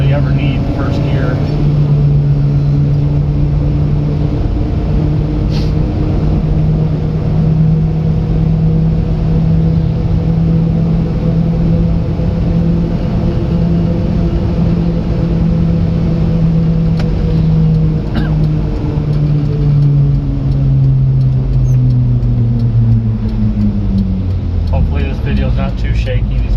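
Japanese mini truck with a low-geared 4-speed gearbox pulling away in second gear, a steady loud engine drone that rises and falls in pitch through the gear, with road and wind noise throughout.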